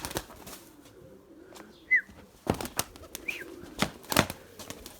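White pigeons taking off and flying outdoors near a loft, with several loud bursts of flapping wings close by and a couple of brief bird calls between them.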